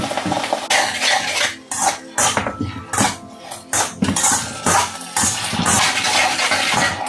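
Utensil scraping and clinking against a bowl while fried rice sauce with vinegar and water is mixed, busy irregular clatter throughout, close and fairly loud.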